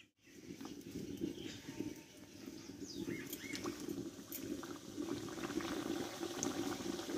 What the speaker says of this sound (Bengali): এবার কিন্তু আমি টিফিনটা ভেজে নেব।